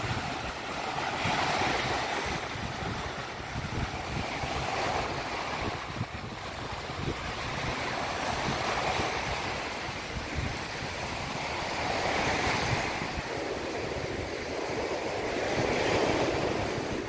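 Strong surf pounds a beach in stormy weather at Unisan, Quezon, with a steady loud roar of breaking waves and gusting wind buffeting the microphone throughout, no voices.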